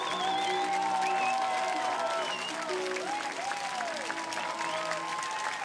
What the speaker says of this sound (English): they'll soak up the applause, both teams will